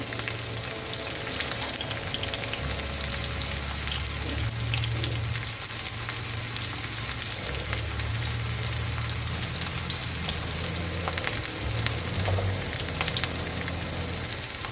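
Onions sizzling and frying steadily in a pan for onion-tomato chutney, a continuous close hiss with faint stirring, no talk.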